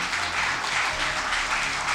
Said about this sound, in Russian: Аплодисменты нашему